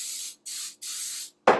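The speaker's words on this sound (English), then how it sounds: "I'm just going to spray my pan." Nonstick coconut oil cooking spray hisses onto a baking pan in three steady bursts with short pauses between, ending in a sharper, louder sound at the close.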